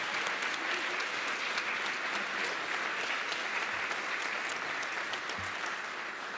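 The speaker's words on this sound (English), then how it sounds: "Can we give him also a round of applause before we get into this?" Audience applause at a spring salon fundraiser, a steady, dense clapping from a room full of people that holds evenly for several seconds with no voices over it.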